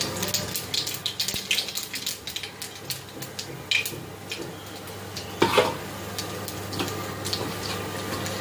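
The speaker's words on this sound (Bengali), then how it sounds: "প্রথমে কালো জিরা দিয়ে দিলাম" Black cumin seeds sizzle in hot oil in a pan as the base for a hilsa fish curry: a steady soft frying hiss with scattered crackles and a few louder pops and stirring clinks, no voices.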